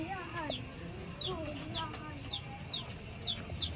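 A pair of teddy breeder pigeons coo in soft, low, wavering calls, while repeated high chirps from other birds ring out nearby against a steady busy background.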